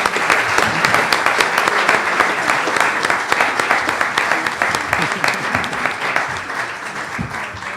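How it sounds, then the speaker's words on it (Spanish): An audience at a molecular genealogy lecture applauds a speaker with sustained, dense clapping from many hands, steady and fairly loud for the whole stretch, with a faint voice or two underneath. "Un aplauso, por favor, para el ingeniero Guillermo Garmendia Leal."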